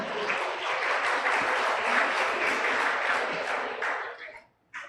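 Audience applauding in a hall during a dialogue-series event, a dense, even clapping that holds steady and then tapers off and stops near the end.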